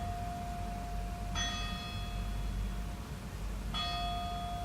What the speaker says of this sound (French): La cloche.